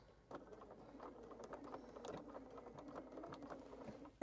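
A sewing machine stitches through a folded, completed bag handle, running as a quiet, steady mechanical whir with rapid rhythmic needle ticks, and a sharp knock right at the end.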